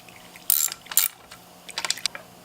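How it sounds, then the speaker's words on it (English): Small 10mm screws being backed out of the oil filter cover on a Suzuki DRZ400S motorcycle, heard as a few close, brief metallic ratcheting bursts separated by pauses, fairly quiet overall. "You take all those screws off."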